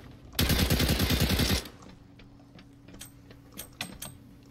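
A burst of rapid pistol fire in the CS:GO Danger Zone Blacksite game, about a dozen quick loud shots in just over a second, followed by quieter ambient game noise and faint clicks.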